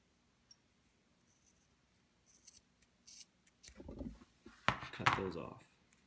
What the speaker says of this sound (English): Take your sharp pair of scissors and at the mark on the rope